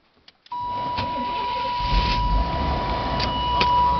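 A Chevrolet Blazer engine cranks briefly after a few clicks, then catches and settles into a loud, steady idle with a faint whine, heard close up.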